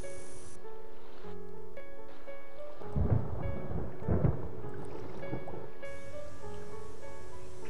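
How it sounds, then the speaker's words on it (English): Thunderstorm in the mystery game And Then There Were None, steady rain under two deep rumbling rolls of thunder over a sustained musical drone, without voices. "And another storm is coming in."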